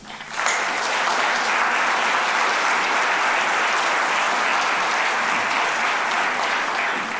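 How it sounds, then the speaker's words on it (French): Sustained applause from a conference audience, steady and full for several seconds after a brief quiet start, with no talking over it. "Je voudrais vous demander de les applaudir."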